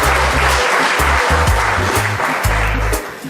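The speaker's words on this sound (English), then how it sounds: "Can we just get a round of applause for the 75th anniversary of" A large indoor audience at the 2023 Gleaner UK Honour Awards ceremony in London gives a sustained round of applause, with dense steady clapping filling the room for several seconds.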